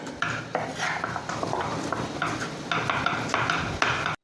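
Mashed tapioca being mixed with a prepared mixture in a pan, with repeated rhythmic spoon knocks and scrapes against the metal, fairly loud and close, with no talking.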